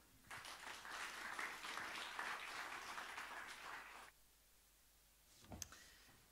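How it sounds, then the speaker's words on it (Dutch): Warm applause from a university lecture audience at De Tafel van Martinus in Tilburg welcomes cultural scholar Marjolein de Boer, sustained for about four seconds before stopping abruptly, followed by a couple of faint knocks. "Geef haar ook een hartelijk applaus"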